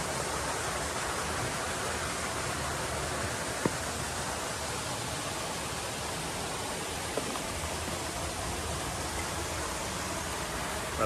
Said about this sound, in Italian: Wow, guardate che serie di cascate.